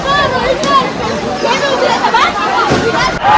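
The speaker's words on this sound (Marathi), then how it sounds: "आज भरपूर गर्दी आहे, तुम्ही बघू शकता." A crowd chatters around the Kankeshwar water tank, a close, continuous babble of overlapping voices with occasional brighter calls.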